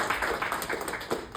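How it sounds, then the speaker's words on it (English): Audience applause at a police lunch with Muslim community representatives: a steady, dense patter of many hands clapping together, sustained throughout without a pause. "let's give all of them a big round of applause"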